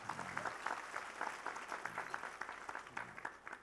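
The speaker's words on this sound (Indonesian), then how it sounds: "tepuk tangan untuk Pak Kapolda" An audience at a religious lecture applauds the new regional police chief. The clapping is dense and sustained, heard from a distance at low volume with no speech.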